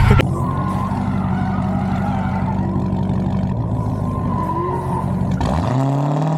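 A Dodge Hellcat sliding with its tires skidding, a loud sustained screech over a droning engine for several seconds, close up, easing off near the end as the engine pitch shifts.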